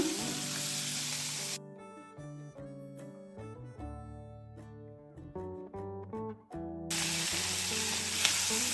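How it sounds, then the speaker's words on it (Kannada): Chopped onions sizzle in hot oil until brown for a restaurant-style chana masala, a steady close frying hiss at the start and end with background music filling the middle stretch. "ಬ್ರೌನ್ ಕಲರ್ ಬರೋವರೆಗೆ ಫ್ರೈ ಮಾಡ್ಕೊಳ್ಳೋಣ"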